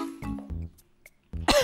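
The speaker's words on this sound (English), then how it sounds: "I'm coughing." Several short coughs and throat-clearing bursts, close and fairly loud, separated by brief pauses.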